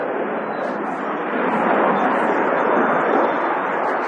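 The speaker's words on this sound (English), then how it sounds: "as the aircraft pitches up to the right, it is time to witness the agility of the aircraft to carry out a mad straight turn" A fighter jet pitching up and pulling a tight turn at the Aero India 2025 air show, heard as a steady broad roar that swells slightly midway and continues unbroken.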